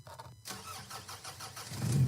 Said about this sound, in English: And you start your car.